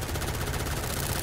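Rapid, continuous submachine-gun fire from Starsiege: Deadzone, a dense, loud burst of shots rattling without pause through the whole moment.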